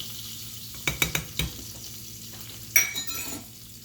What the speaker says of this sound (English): what we'll do is pretty much we'll just keep stirring it pretty much